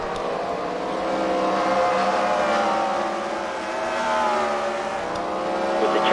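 Race cars lapping an oval track at the Freedom Factory, a sustained droning engine roar with shifting pitch as cars pass through lap traffic, loud and steady with gentle swells.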